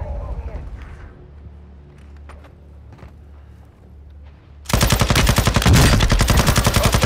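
Automatic gunfire in Call of Duty: Modern Warfare II erupts abruptly after a quieter stretch of low rumble and scattered clicks, a loud rapid stream of shots that continues to the end.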